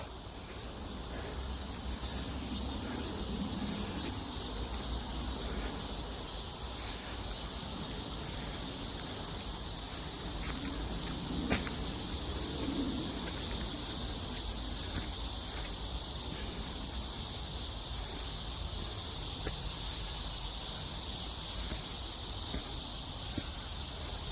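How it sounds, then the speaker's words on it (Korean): A dense, steady drone of cicadas fills the air continuously on a quiet wooded hill behind a neighborhood, a high buzzing chorus with no talking. "매미 소리만 아주 잘 울고 있습니다"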